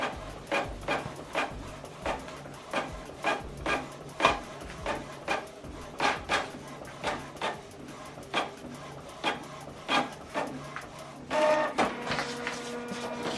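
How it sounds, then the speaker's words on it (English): A Canon PIXMA printer runs a double-sided print job, its rollers giving a steady series of rhythmic clicks and thumps, each close by and separate, ending in a longer whirring feed as the page pulls back in. "see that it's going back in for us to print double-sided."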